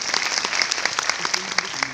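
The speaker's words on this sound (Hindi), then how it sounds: "इनके लिए जोरदार ताली होना चाहिए।" An audience at an event in Mumbai bursts into loud, dense clapping that fills the whole moment, many hands close and steady throughout.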